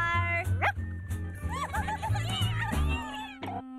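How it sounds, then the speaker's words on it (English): Clifford, a small red cartoon puppy, gives a series of high, bright yips and barks in quick bursts, mixed with playful animated vocal sounds and ending on a sustained tone. "It's Clifford when he was just a pup, before he got big and grew up."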